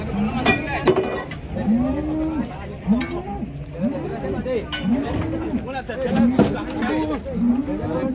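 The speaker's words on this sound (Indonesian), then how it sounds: "Di belakang ada sapi galak." Cows unloading from a truck low and moo repeatedly at close range, with rattling and clinking of the vehicle and people chattering throughout.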